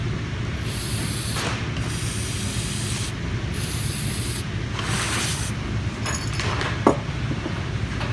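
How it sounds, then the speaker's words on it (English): Brake cleaner aerosol sprays in four hissing bursts with short pauses between, cleaning a gun's block close by, with faint metallic clinks toward the end. "You have to use the brake spray, clean the block off."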